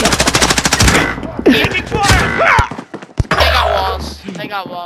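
Rapid automatic gunfire bursts in the Call of Duty Modern Warfare video game, loud and close, followed by scattered single shots and thumps, with a player's voice calling out between them.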